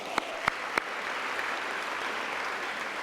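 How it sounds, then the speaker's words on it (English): An audience applauds at a Father of the Year awards event, a steady wash of clapping from a room-sized crowd with a few sharper claps standing out near the start, moderately distant and continuous throughout. "Can I get another wonderful round of applause one more time?"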